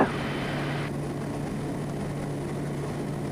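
A Twin Otter propeller plane climbing out in a crosswind gives a loud, steady engine and propeller drone with a constant low hum, heard from inside the aircraft.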